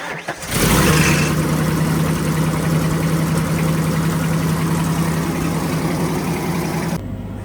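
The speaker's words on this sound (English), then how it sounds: "here we have to start this motor and diagnose" A motor on corn harvesting equipment cranks and catches, then settles into a steady, loud idle with a constant low hum for several seconds before cutting off abruptly near the end.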